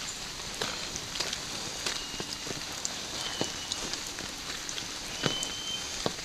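Steady rain falling during a dog walk outdoors, a constant soft hiss dotted with scattered sharper drops and taps, no voices.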